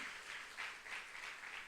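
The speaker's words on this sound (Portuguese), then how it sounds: "Vamos aplaudir bem forte ao Senhor." Congregation applause in a church service, a steady wash of clapping from many hands that swells and eases in soft waves, fairly quiet and distant, with no talk over it.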